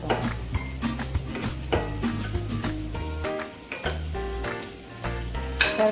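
Carrots sauté in a pan while pasta is being made at home, giving a steady sizzle with stirring scrapes throughout, mixed with a tonal hum.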